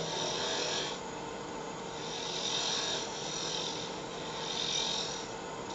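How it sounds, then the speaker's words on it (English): Bowl gouge with a 3/8 inch bar facing off a wooden candle ornament spinning on a wood lathe: a steady, continuous rasping scrape close by, swelling and easing in a few slow passes with no talk. "we're going to go back to that 3/8 inch bar size bowl gouge. We're just going to, again, just face it off."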